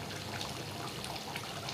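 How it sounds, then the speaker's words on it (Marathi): Hot water pouring and trickling off cooked chicken biryani rice as it is strained, a steady close splashing flow with no voices. "आता हे पाणी सगळं गाळून घेऊ आपण"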